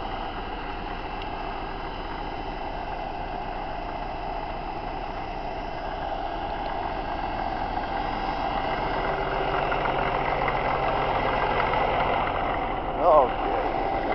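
A 1956 Caterpillar D6 9U bulldozer engine idles at a steady, even rumble throughout, with a brief knock near the end.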